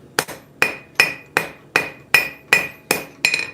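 A rounding hammer strikes hot metal on the horn of an anvil at a forge, eight sharp ringing blows in a steady rhythm, each with a bright metallic ring that decays quickly, loud and close with no talking.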